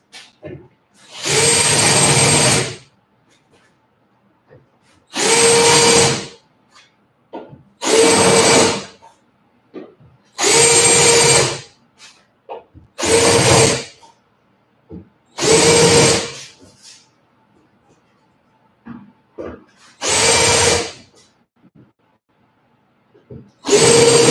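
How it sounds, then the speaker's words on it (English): Power tool running in a shop, likely smoothing wood, in eight loud, separate bursts of a few seconds each, with quiet gaps in between. "Done with power tool."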